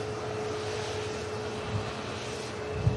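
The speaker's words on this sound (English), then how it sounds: "the aircraft just going round" At Manchester Airport, an aircraft taxies back onto the Alpha taxiway, its engines a steady, even drone heard from a distance with a faint constant whine and no voices.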